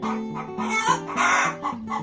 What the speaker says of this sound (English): She's yelling at the other chicken.